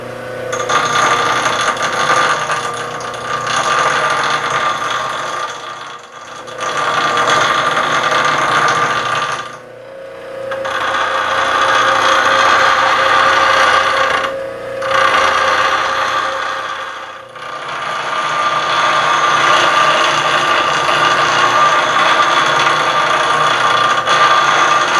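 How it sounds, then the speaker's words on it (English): A bench grinder sharpening a woodturning roughing gouge, a loud steady whirring grind with a high metallic edge, broken by several short pauses as the tool is lifted from the wheel. "But I'm just going to go ahead and grind now."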